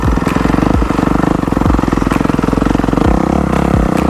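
A motorcycle riding a lap of the raceway pro track on Georgia clay at a training facility sounds close and loud, with a fast pulsing engine note that rises and falls as the rider works the throttle.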